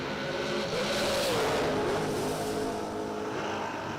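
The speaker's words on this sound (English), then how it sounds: "Got a drag race." Drag race cars launching at a bracket drag racing event, a loud sustained engine roar with rising pitch as the cars pull away, heard from trackside without talking.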